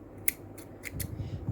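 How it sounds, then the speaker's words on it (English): Small scissors snip a yarn tail on a crocheted amigurumi bear, four crisp close metallic clicks in a loose rhythm, followed by faint rustling handling noise. "we're going to take our scissors and we're going to cut a little bit of a tail just for sewing"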